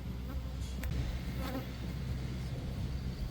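A soft, steady buzzing of honey bees drones continuously against low background rumble, with a few faint clicks, at a farm apiary hive.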